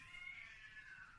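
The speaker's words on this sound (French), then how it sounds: "sur ce fond de bruit de chat qui va se donner" Cats meowing together, a drawn-out, wavering cry held at moderate loudness through the whole moment with no talk, a low rumble of room noise beneath.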